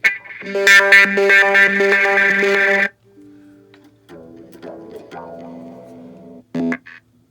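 Heavily distorted electric guitar chords through a homemade distortion effects pedal ring out loudly, then stop, followed by quieter processed, fuzzy guitar notes and a short final burst.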